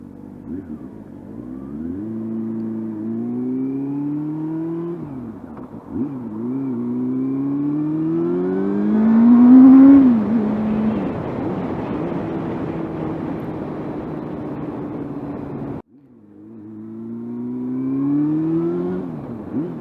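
A small high-revving engine climbs in pitch through repeated rev sweeps toward a 13,000 RPM red line, loud and close, with brief drops between pulls and no talking.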